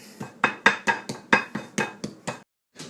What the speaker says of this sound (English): if you got a hammer, don't be afraid to use it